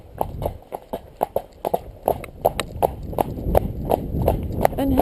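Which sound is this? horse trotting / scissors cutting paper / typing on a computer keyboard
horse trotting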